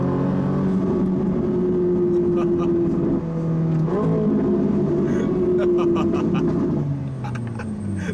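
A Ferrari 458 Italia engine holds a loud, steady, droning note that shifts pitch as it revs, with crackling pops from the exhaust bursting through the middle and later stretches.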